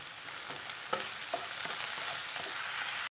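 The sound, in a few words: curry leaves frying in coconut oil with onions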